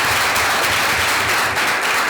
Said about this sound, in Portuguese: Aplaude forte aí, gente.